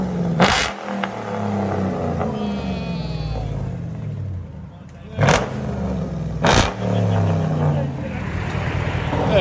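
Straight-piped 2008 Mercedes CLS 550 with a 5.5L V8 idling with a steady low rumble, broken by three sharp revs that rise and fall quickly, with voices talking over it.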